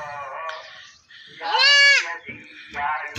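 A newborn goat kid bleats during its first feeding, giving three shrill, quavering cries up close, with the loudest in the middle, and a few soft rustles between them.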